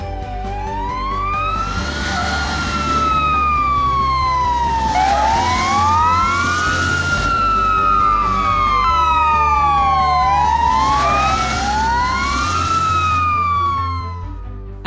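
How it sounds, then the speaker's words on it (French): A fire station alarm siren wails in long rising and falling sweeps, loud and steady over a low rumble, with no talking. "Quand retentit l'alarme, la course contre la montre s'engage."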